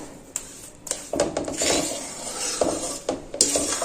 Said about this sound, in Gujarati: આ રીતના થોડી થોડી ખાંડ એડ કરતું જવાનું, મિક્સ કરતું જવાનું